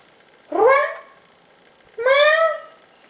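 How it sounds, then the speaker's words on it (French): A house cat meows twice, two drawn-out, fairly loud calls separated by a short pause, close to the listener with no other sound. "Vous voyez mon chat?"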